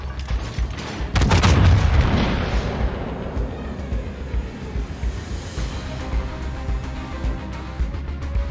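Naval gunfire from the warship Vermont in a video game: one heavy, close booming salvo erupts loudly, then a long rolling rumble decays slowly beneath a steady low background.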